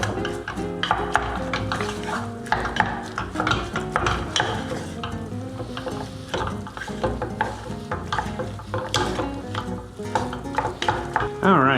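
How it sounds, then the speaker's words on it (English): Mashed potatoes being stirred with a splash of milk in a pot for a French onion pot roast dinner, a steady run of scraping, clinking utensil strokes against the pot, close and fairly loud throughout with no talking. "All right, so let's just mix this up."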